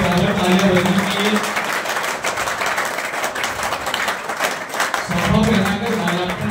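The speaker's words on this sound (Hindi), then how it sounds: "तालियों में कंजूसी नहीं होनी चाहिए, बराबर तालियां बजनी चाहिए" Audience applause at an annual function and felicitation ceremony, with dense clapping under music or a voice over a loudspeaker, sustained throughout and moderately loud.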